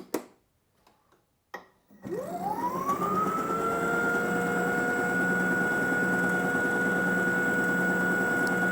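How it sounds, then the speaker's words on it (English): A Toro Power Max e24 60V electric two-stage snowblower starts up after a few faint knocks and settles into a steady, loud whine from its pulley, a sustained high tone over a rumbling drone. "And some of the noise is caused by this pulley here."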